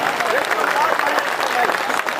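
Audience applause at an All India Mushaira poetry gathering in Jabalpur, a steady dense wash of clapping filling the pandal, with voices and crowd noise mixed underneath throughout.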